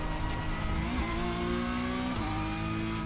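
Porsche Cup car in the iRacing game at Monza on cold tyres: a steady, loud engine drone with sustained tyre squeal tones sliding in pitch across the whole stretch, no talking.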